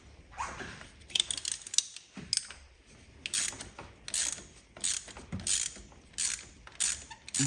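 A spark plug ratchet tool clicks in quick repeated bursts while working on a Nissan Cube 1.6 engine, close and fairly quiet, with short pauses between runs of ratcheting.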